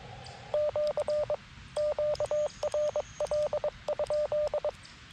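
Bursts of Morse-like beeping tones from an amateur radio station calling come over a radio in quick groups, with short pauses between, against a low hiss.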